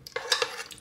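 Short metallic clinks and scrapes of a utensil stirring melting cheese and wine in a Silvercrest SFE 1500 D3 electric fondue pot, a few quick close taps in under a second.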